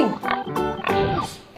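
A domestic pig oinking in a short run of three or four nasal grunts, close and fairly loud, with a brief sharper squeal at the very end.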